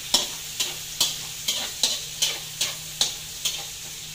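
Ingredients sautéing in a pan for lomi, with a spatula scraping and tapping the pan in a steady rhythm of about two strokes a second over a soft, constant sizzle. The sound is fairly quiet and close, with no talking.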